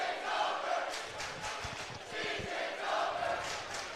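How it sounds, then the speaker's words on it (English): Fans in the stands at a high school basketball regional semifinal raise a rhythmic, chant-like cheer from some distance, moderately loud and echoing in the gym. "I hate that cheer."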